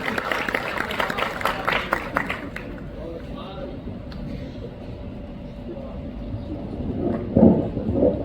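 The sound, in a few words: audience applauding at a poetry gathering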